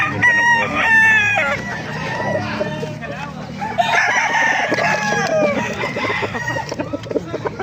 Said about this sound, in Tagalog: pakarami pa manok dito mga nakalagay sa cage